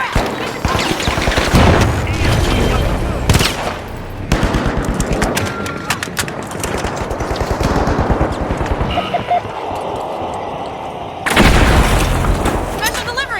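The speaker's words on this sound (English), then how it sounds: "Sending a frag." Booming blasts and heavy gunfire in The Finals, a frag grenade going off among dense rapid shots, loud and close, with a large burst near the end and voices talking throughout.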